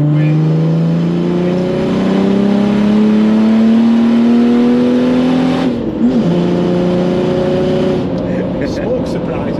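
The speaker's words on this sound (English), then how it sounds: "A big laggy diesel on an off-road car, isn't it?" A 500 BHP OM606 diesel engine swapped into a Nissan Patrol off-roader revs up close, its tone climbing steadily before dipping and settling into a lower drone, while voices talk over it.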